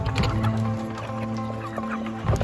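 Heritage chickens clucking steadily and close by, several birds overlapping in a busy, continuous chorus of low throaty clucks with no talk over it.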